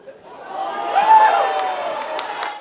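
A fanatic home crowd at a Papua New Guinea national football match roars and cheers, the swelling mass of voices rising to a peak and then holding, with scattered claps, heard from a distance.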